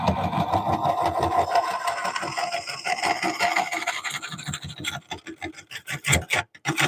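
Wood lathe spinning an oak bowl while a scraper works the surface, a steady rumbling scrape with rhythmic rasping pulses, loud and close, turning choppier and intermittent toward the end.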